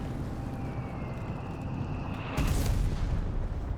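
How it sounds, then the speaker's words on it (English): A building collapses under British mortar fire in the Company of Heroes 3 strategy game: a sudden heavy rumbling crash breaks in partway through over a steady hum of battle ambience. "Building collapsed under British mortar fire."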